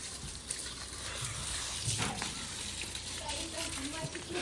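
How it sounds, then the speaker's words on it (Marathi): Water runs and splashes steadily in the background as it is released to water plants, while people talk over it nearby. "पाणी सुटले पाणी सुटले"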